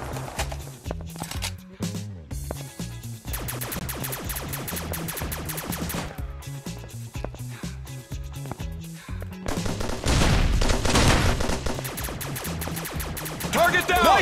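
Rapid gunfire rattles through a shooting video game, with bursts of repeated shots over a steady musical backing, growing heavier and denser toward the end.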